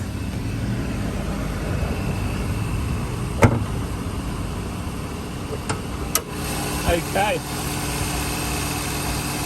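A Suzuki Swift S hatchback engine idles with its bonnet open, giving a steady, even hum throughout while someone talks over it.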